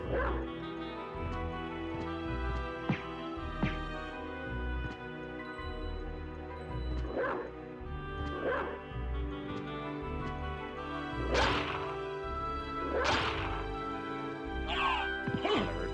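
Wolf-form sounds from the video game Castlevania: Symphony of the Night, with short yips and whimpering barks over a continuous game music bed, moderately loud.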